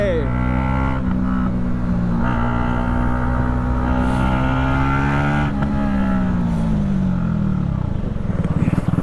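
Modified KTM Duke 250 motorcycle engine revving hard for a wheelie, a loud, close, sustained roar with rising and falling pitch sweeps, and the engine climbing again toward the end.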